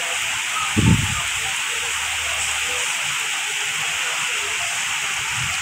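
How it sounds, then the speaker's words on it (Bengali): Heavy rain driven by strong wind at night gives a steady, hissing wash of sound, with a short low rumble near the start and faint voices in the background. "তো দেখুন কি পরিমাণে বাতাসের গতি এবং বৃষ্টি একসঙ্গে দুটোই হচ্ছে"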